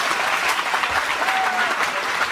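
A crowd applauds with continuous, dense clapping from start to finish, evenly sustained.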